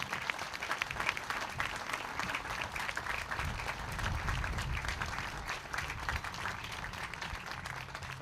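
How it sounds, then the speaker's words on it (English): An audience at a Hometown Heroes banner dedication ceremony applauds a First Sergeant, with dense, even clapping that holds steady at a moderate distance throughout. "Please give him a round of applause."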